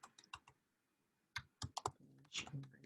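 Someone typing a git push command on a computer keyboard, quiet and close, a few scattered key clicks followed by a quicker cluster of taps, with a pause in between.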